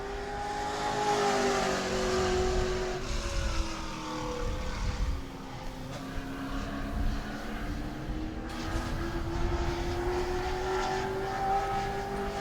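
Pro Trucks race around the New Smyrna track during a qualifying session, their engines roaring loud and close as several trucks sweep past with rising and falling pitch and steady throttle.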